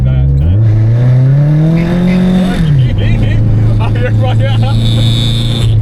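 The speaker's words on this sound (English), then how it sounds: "that transmission whine is crazy" A Nissan 350Z on the road gives a strong, rising and falling whine over loud engine and road roar, close inside the car, with voices talking over it near the end.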